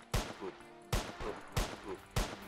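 Gunfire in Vaccine War rings out as four evenly spaced, sharp shots, each with a short echoing tail, fairly faint in the mix.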